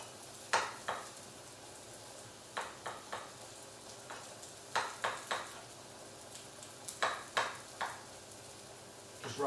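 Mushrooms fry gently in a pan, giving a soft, steady sizzle with scattered clusters of sharp clicking and scraping from stirring. It stays fairly quiet, with no talking.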